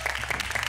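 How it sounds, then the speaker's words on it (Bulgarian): Brief burst of studio audience applause on a Bulgarian television game show as a contestant is welcomed, dense and steady clapping throughout a short moment. "Аплодисменти за Йоанна!"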